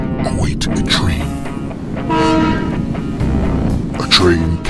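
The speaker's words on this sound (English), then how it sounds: "A train carrying precious cargo." A train horn sounds in a modern Western film trailer, a sustained tonal blast mid-clip over dense music, rumble and voices.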